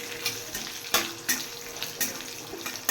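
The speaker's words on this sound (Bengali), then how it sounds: "এইটাকেও একটু নেড়ে ছেড়ে ভাজা ভাজা করে নেব" Vegetables with a spoonful of poppy seeds are stirred and fried in a pan, giving a soft steady sizzle broken by repeated scraping strokes of the spatula at a brisk, uneven rhythm, heard up close with no talking.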